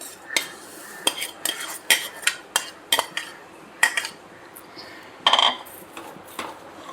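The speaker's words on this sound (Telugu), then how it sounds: "వేసుకున్న తర్వాత ఇవి బాగా కలుపుకొని మగ్గించుకోవాలి" A spoon strikes and scrapes a metal pot in a series of sharp, irregular clinks while vermicelli is stirred into bubbling kheema, with a soft simmer beneath and no speech.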